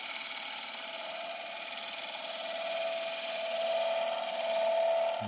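A woodturning gouge cuts a spinning wooden bowl on a lathe, giving a steady close rubbing, rasping whir that swells slightly toward the end, with no talk.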